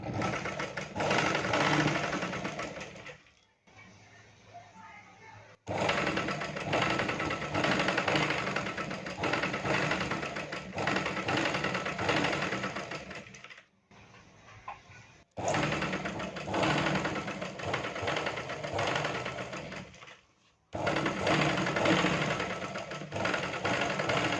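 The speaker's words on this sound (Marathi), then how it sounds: "पाठीमागाचा भाग जास्त झालेला आहे, इथं शिलाई मारून घ्यायची" A sewing machine stitches a blouse seam in long, steady, close runs, stopping briefly several times between passes.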